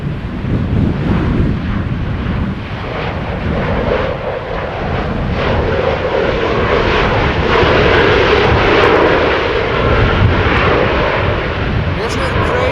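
An Embraer E190 jet airliner arrives at Amsterdam Schiphol Airport on a breezy day after a storm. Its engines make a loud, continuous roar with wind buffeting the microphone, and a person talks over the noise.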